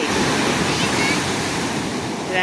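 Seaside surf with a large wave rolling onto the beach, a steady broadband wash of water lasting the whole moment, close and loud, with wind buffeting the microphone.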